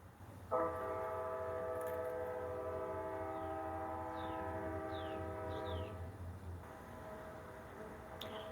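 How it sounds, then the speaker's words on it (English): A passing train sounds a long, steady multi-tone horn for about five seconds over the low rumble of rolling wheels, then the rumble continues as the horn stops, with no voices. "the train is a coming. Let's let the train pass."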